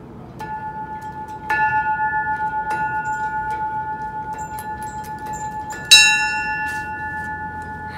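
A ship's bell aboard the steamship Sołdek in Gdańsk rings with sustained metallic tones, struck a few times with one louder clang near the end, ringing steadily over a low background hum.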